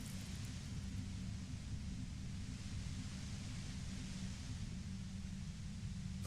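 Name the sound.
white noise humming near a compressor in Disco Elysium video game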